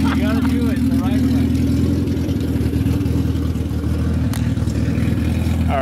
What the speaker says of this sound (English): it sounds like a built motor or something, but that's a complete stock motor we got out of a junkyard